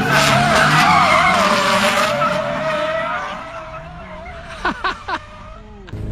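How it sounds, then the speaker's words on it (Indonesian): A Hyundai Ioniq 5 N drifts on a race track, its tyres skidding in a long loud wavering squeal that fades, then several short sharp chirps near the end. "saya akan perlihatkan cuplikan-cuplikan mobil ini ngedrift di track"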